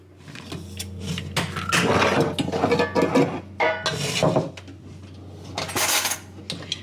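Dishes, cups and cutlery clink and clatter continuously at close range in a home kitchen while tea is being made, with sharp metallic taps and scrapes over a steady low hum.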